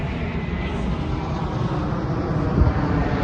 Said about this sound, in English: Got an airplane. Look at that.